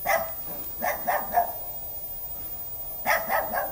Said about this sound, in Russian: Активировались собаки.